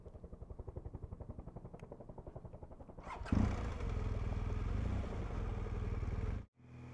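A motorcycle engine idles with a rapid, even chug, then revs up into a louder, steadier roar as the bike rides off, close by, before cutting out abruptly near the end.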